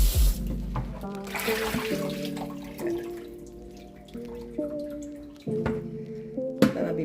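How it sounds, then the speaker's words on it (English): Tap water runs into a sink as a roast beef is rinsed, close and steady, with drips and splashes shifting in pitch as the meat is moved under the stream. "Give it a good rinse again."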